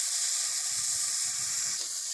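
Boiled broad beans (shim) frying dry in a pan, giving a continuous gentle sizzle with a faint hiss, heard alone and at a low, even level.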